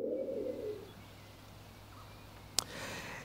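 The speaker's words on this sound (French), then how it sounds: "la voix de la tourterelle se fait entendre dans nos campagnes" A turtle dove coos low and soft in the countryside in spring, with a short warm phrase near the start, then quiet ambience and a brief sharp click.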